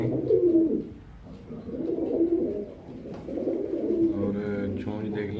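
Low-flyer pigeons coo up close in repeated, throaty, rolling phrases that continue throughout.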